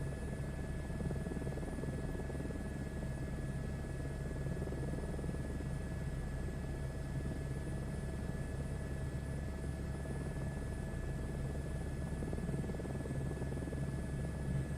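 Steady, continuous helicopter engine and rotor drone in Microsoft Flight Simulator 2024, a dense low rumble with a constant high whine holding at even loudness throughout, with no talking.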